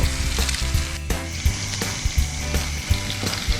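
Fish with onion sizzles and crackles steadily in a hot pan, a loud, close, continuous frying hiss broken by regular scraping and stirring taps, with no voices.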